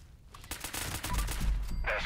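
Rapid gunfire in the video game Fallout 76, a dense burst of loud shots that builds and holds steady to the end, heard alone with no talk over it.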